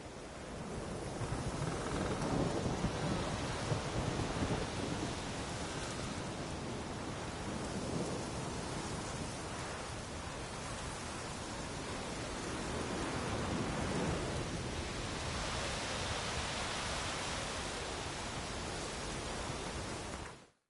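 A steady heavy thunderstorm pours rain in The Witcher 3, a dense continuous wash of rainfall with low thunder rumbling through, loud and unbroken throughout.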